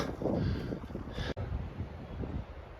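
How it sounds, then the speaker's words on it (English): Wind blowing across a mountain ridge in the Canadian Rockies on a hike in South Kananaskis, a steady breathy rush buffeting the microphone with gusty swells, with one abrupt brief dropout partway through. "it turns out there is wind on the other side of the watershed"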